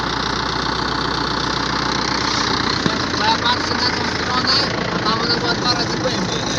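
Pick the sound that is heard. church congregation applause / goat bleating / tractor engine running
tractor engine running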